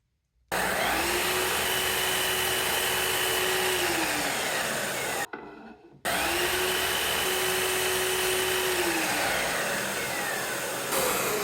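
A power saw cuts walnut pieces for a tape dispenser stand, a loud steady whine that dips in pitch under load, with a brief pause midway before the cut resumes and runs to the end.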